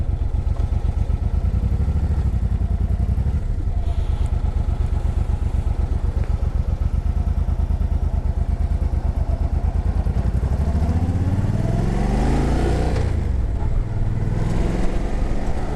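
A 2006 Suzuki Boulevard C90 cruiser thumps along with a steady low V-twin pulse, then revs up with rising pitch toward the end, loud and close under wind rush.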